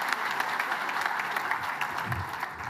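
A keynote crowd keeps applauding in a continuous, even wash of many hands clapping that eases slightly toward the end, with no speech.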